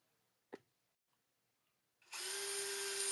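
A power drill fitted with a 7/8 inch spade bit starts boring into a workpiece after a single sharp knock, running as a loud, steady, close whine that holds without a break until the end.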